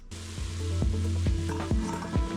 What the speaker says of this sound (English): Stir it around so those flavors start mingling and then let it cook for about 30 seconds.